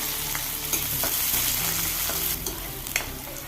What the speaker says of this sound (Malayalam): കുറേശ്ശെ മൂത്ത് വരുമ്പോൾ നമുക്ക് ഉള്ളി അരിഞ്ഞത് ചേർത്ത് കൊടുക്കാം